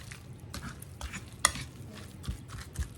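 A spoon stirs a chicken stuffing mixture in a bowl or pan, making soft scraping and clinking strokes in an irregular rhythm, close by and fairly quiet, with one sharper clink partway through.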